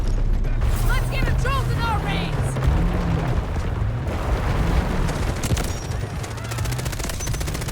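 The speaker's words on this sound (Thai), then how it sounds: "ระเบิด" Gunfire and explosions in the tactical shooter Delta Force, a dense continuous battle din of shots and booms with steady low rumble, while players talk over it throughout.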